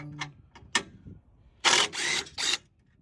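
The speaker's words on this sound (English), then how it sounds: "I'm going to see if we can't get these bolts off" Metallic clicks and a few quick ratcheting bursts from tools loosening bolts on a 2023 Jeep Gladiator, close and sharp with short pauses between them, no talking.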